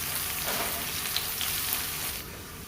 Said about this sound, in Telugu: ఆ తర్వాత 1 స్పూన్ అల్లం వెల్లుల్లి పేస్ట్ వేసి పచ్చివాసన పోయేంత వరకు ఫ్రై చేయండి.